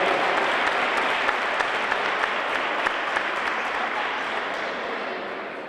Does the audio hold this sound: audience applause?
yes